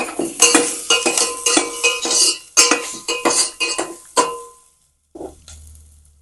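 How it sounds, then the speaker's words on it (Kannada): Chopped onion added to capsicum in a pan for pasta: a busy run of metallic clinks and scrapes from a utensil working the pan, close and fairly loud, stopping for a moment before one last scrape. "ಈರುಳ್ಳಿ ಹಾಕ್ತೀನಿ ಇವಾಗ."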